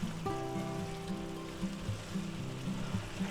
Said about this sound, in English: Give them another little stir